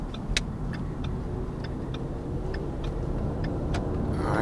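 A 2016 Ford Mustang EcoBoost cruising south on the Florida Turnpike at low revs, a steady low engine and road drone with faint ticking clicks over it.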